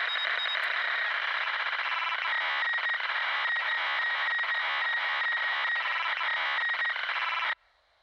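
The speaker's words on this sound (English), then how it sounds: "Now I heard a little beeping and maybe some clicking." In Starfield, a steady, buzzy electronic tone with rapid clicking pulses runs continuously over a ship radio for several seconds, then stops abruptly.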